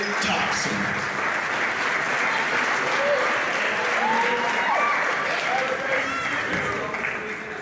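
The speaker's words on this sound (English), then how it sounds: "Let's have one more final round of applause for these young men and women and their families." Sustained applause from a sizable crowd at a high school boys' senior recognition event fills the room, steady and loud, with a few voices faintly audible underneath.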